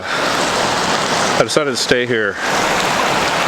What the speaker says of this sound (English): You can hear the creek behind me.